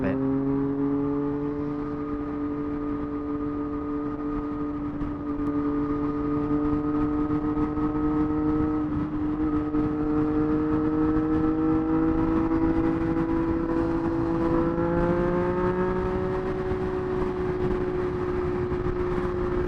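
A Triumph Street Triple 765 RS motorcycle on the move gives a steady, droning engine note that holds and then gradually climbs in pitch, with constant wind and road rush and no talking.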